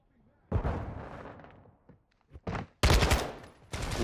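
Bursts of automatic gunfire in Call of Duty Modern Warfare 2 during a multiplayer match with a Kastov-74u rifle, loud, sharp rattling volleys that start and stop in several separate bursts.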